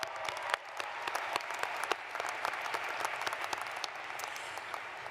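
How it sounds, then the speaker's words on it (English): A large commencement crowd at Utah Valley University's 2025 graduation applauds in a dense, sustained wash, with sharp individual claps standing out at close range and no speech over it. "You guys can all clap."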